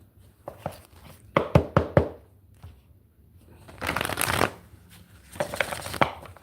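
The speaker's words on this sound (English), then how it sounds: "I'm shuffling because this is what it's about." Tarot cards shuffled by hand during a live reading, a burst of sharp riffling snaps followed by longer rustling shuffles, close and fairly loud with brief pauses between.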